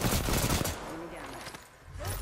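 Gunfire in Apex Legends, a close, rapid burst of shots crackling at the start, then thinning into scattered reports and fading before a final swell.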